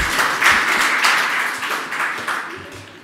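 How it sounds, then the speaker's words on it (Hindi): Audience applause during a Jain religious discourse, a dense burst of many hands clapping together that swells briefly and then tapers off over a few seconds, with no voices over it. "एक बार तालियां तो बजा दो"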